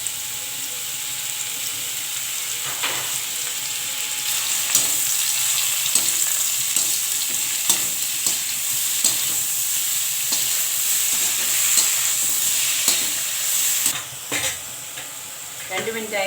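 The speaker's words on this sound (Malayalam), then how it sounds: "ബാക്കിയുള്ള എണ്ണയ്ക്കകത്തോട്ട് നമുക്ക് ഈ മഷ്റൂം കൂടെ 2 മിനിറ്റത്തേക്ക് ഫുൾ ഫ്ലെയിമിൽ ഒന്ന് വഴറ്റിയെടുക്കാം" Mushrooms sauté in leftover oil over a full flame for a restaurant-style kadai mushroom masala, giving a loud, continuous sizzle broken by frequent scrapes and taps of stirring.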